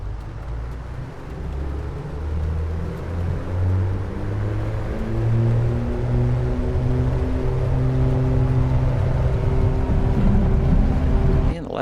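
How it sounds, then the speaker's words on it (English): Twin piston engines of an A2A Aerostar 600 in Microsoft Flight Simulator 2024 drone steadily, their harmonic tones rising and shifting apart as the engines run unevenly, loud and continuous throughout. "And the left engine's still being lazy."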